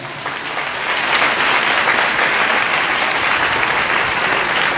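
Church congregation at a live worship service in Gujranwala breaks into loud, dense applause, a thick sustained roar of many hands that swells after the first second and holds steady without any talking.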